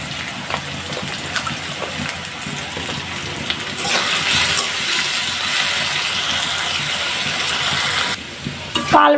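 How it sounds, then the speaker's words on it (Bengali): Potatoes fry in a pan for a fish-and-eggplant curry, giving a steady loud sizzle with stirring and scraping as they are turned, swelling louder midway before a brief pause and a final burst. "আলুটা এভাবে আমি উল্টায় পাল্টায় ভেজে নিতেছি"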